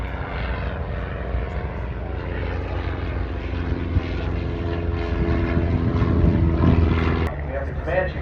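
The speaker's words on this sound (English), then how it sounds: "We have the Comanche coming across right now" A Comanche propeller airplane passing overhead at the Oshkosh fly-in, a steady droning engine and propeller roar that builds toward a loud close pass before cutting off sharply, with a voice speaking over it.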